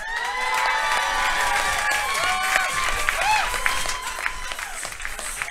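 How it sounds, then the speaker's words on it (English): A comedy roast audience for a comedian's 40th birthday breaks into sustained applause with cheering and whoops, steady and loud, with some voices mixed in. "Nice round of applause for Broke Hatchback Mountain."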